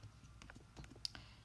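Several soft clicks of typing a word on a computer keyboard, quick and irregular, faint and close in a quiet room.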